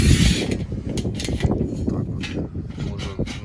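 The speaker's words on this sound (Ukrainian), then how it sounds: "В профілі є паз, ми заводимо болт" A bolt slides into the slot of a metal profile and is tightened on a T-bracket for mounting on bitumen shingles, making close clattering, ratcheting metallic clicks and scrapes in a busy sequence.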